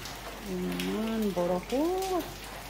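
Steady rain falls in a continuous soft hiss, with a nearby voice singing and talking over it throughout.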